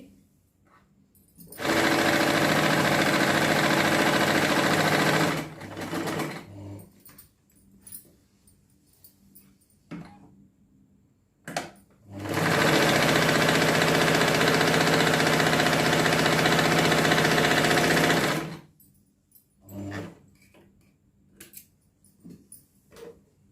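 Two long bursts of an electric sewing machine stitching pieces of a patiala salwar, each several seconds of steady whirring, separated and followed by quieter handling noises.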